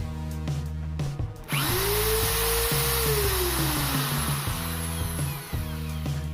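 A Krisbow 13mm electric impact drill spins up and runs at full speed, a loud, steady whine that rises and holds close by, then winds down with a few short bursts.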